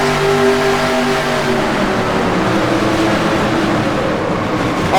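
Several stock cars in NASCAR Racing 2003 roar down the back straight, their engines a loud, continuous drone with steady tonal whine.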